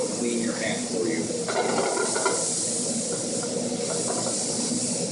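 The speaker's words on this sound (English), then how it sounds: "it's really great to saute mushrooms because it'll clean your pan for you" Mushrooms sautéing in butter in a pan hiss and sizzle steadily, close and continuous, with occasional stirring scrapes and a faint voice in the background.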